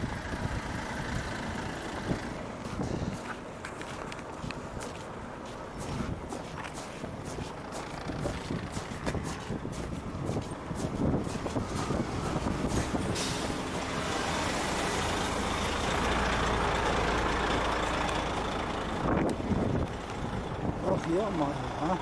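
Truck stuck in snow during a blizzard on a highway near Taraz, an engine droning and wheels spinning under howling wind, with people talking over the noise and the revving swelling louder toward the end.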